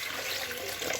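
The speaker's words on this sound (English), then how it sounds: "Pour the water." Tap water runs steadily into a coffee pot at close range, a continuous splashing rush for the whole second with no voices.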